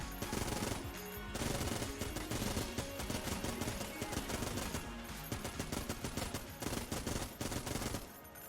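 Rapid, dense burst fire from a modded gun in Enter the Gungeon, loud clattering volleys of shots packed tightly together with brief gaps, continuous across the whole stretch alongside game effects.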